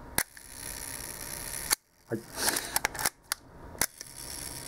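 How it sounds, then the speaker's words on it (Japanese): A 1955 double-stroke Leica M3 rangefinder camera fires its shutter at one second, giving crisp mechanical clicks about a second apart, with film-advance winding sounds between them and a brief word spoken. "シャッター音なども聞いてみてください。"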